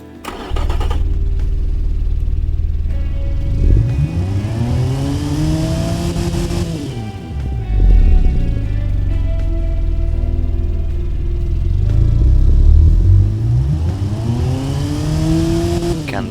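An inline-four engine in a van in the racing and car-building game Automation revs up repeatedly, rising and falling in pitch in long sweeps, steady and close with no talking.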